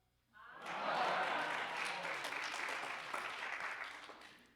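Meeting attendees clap to vote by acclamation at a central committee election of officers, a dense burst of applause that starts abruptly and holds steady for several seconds before easing slightly.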